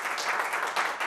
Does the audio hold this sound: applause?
yes